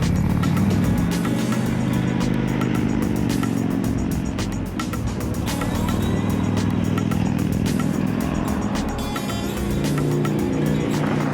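A Victory Gunner motorcycle engine runs loud and steady throughout, a constant close rumble with no talking and no clear rise or fade as it passes.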